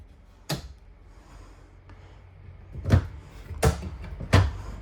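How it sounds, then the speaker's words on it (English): Four soft thuds of soft-close cabinet doors closing in an RV bathroom, spaced a second or so apart, with quiet room tone in between and no talking. "All these are going to be soft close cabinetry doors."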